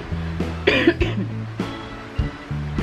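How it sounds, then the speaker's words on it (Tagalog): A few short, dry coughs in quick succession, close and fairly loud, with a low steady hum underneath and no talking. "Parang dry cough, ayan."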